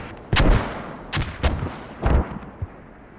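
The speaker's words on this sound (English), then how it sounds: "It looks like the mortars are just getting a little bit too close to the friendlies." Mortar fire in a video game match: five sharp, loud booming blasts at irregular intervals over a low rumbling background, with no talking.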